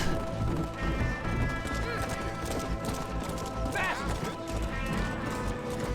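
Horse hooves clip-clop steadily in Red Dead Redemption as a rider travels with a woman tied on the back of the horse, the rhythmic beats sitting under a game music score, with a horse whinny partway through.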